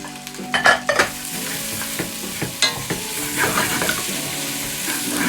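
Flour-coated beef sizzles in a stew pot while being stirred, with a steady frying hiss broken by a few sharp scrapes and knocks of the spoon against the pot.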